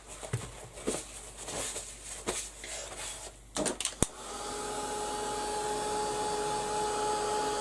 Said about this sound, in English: I'll give that a quick blast with the heat gun as well.